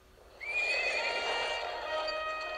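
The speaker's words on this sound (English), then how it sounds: "King Neptune is riding toward the Krusty Krab at lunchtime." A horse neighs loudly and alone as King Neptune's coach arrives, a strong whinny rising and trailing off over a steady hum, with clip-clop of hooves from the animated sea king's carriage outside the Krusty Krab.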